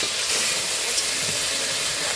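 Chopped tomato, okra, sweet potato and raw mango hit hot oil in a kadai tempered with five-spice, giving a loud, steady, unbroken hiss of sizzling from start to finish with no voices.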